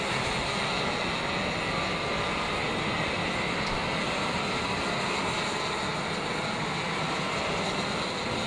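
Racing karts in a main event of a Southern California club kart racing series roar around a sweeping bend and down a long straightaway, a dense, steady, loud engine drone running throughout with no talk.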